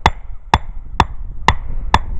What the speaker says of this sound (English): take your hatchet, and a real good way to hammer, not like this, because you could hit your fingers sideways, and hit it right in the ground.